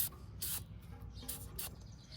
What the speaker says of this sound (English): I have this silicone lubricant, and you can just spray it